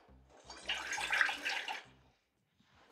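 Water poured from a cup into a pan for a finger millet dish, a short splashing pour of about a second and a half, fairly close, over soft background music, then near silence.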